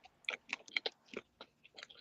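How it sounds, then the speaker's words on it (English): Someone eats pizza close to a microphone, making crisp, irregular crunchy bites and wet chewing clicks, a quick series of sharp sounds in a quiet room with no talk. "Your chewing is so magnified."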